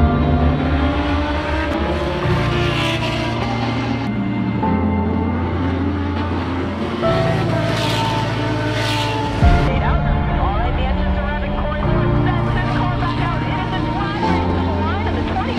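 A Lamborghini Super Trofeo race car run by Hubbell Racing, recorded from the cockpit: a loud, harmonic engine drone that holds, then steps up and down in pitch through gear changes over about fifteen seconds, constant and close.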